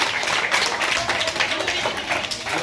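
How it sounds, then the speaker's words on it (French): Pupils at a school in Somone clap loudly for themselves in dense, continuous applause filling the room, with voices mixed in. "applaudissez-vous très fort."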